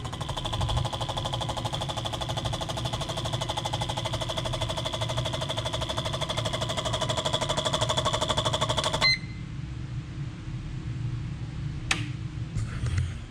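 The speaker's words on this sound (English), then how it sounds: "we now offer and have a injector cleaner" Fuel injector cleaning machine running its idle test, a rapid steady mechanical ticking and clicking buzz that runs evenly for about nine seconds, then cuts off, leaving a faint hum and a sharp click.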